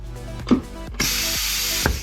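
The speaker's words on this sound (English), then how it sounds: "then we actuate the spot welder" A spot welder joins a metal tab onto the end of a strip, giving a few sharp snapping bursts and clicks, one followed by a sustained bright hiss, all close and fairly loud.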